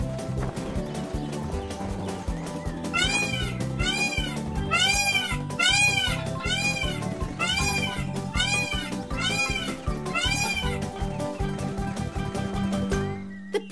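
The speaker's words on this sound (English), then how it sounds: "Those jungle cats are too close." Cartoon jungle cats meow in a rapid series of high, repeated calls over a lively animated music score, closely clustered and loud through the middle of the stretch.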